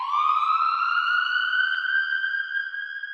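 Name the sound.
siren sound effect in a beat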